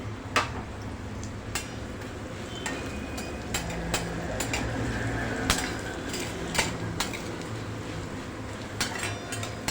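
Peanuts are added to a pan for garlic chutney, giving scattered sharp clinks and rattles against the metal over a steady low background hum, with intermittent louder taps.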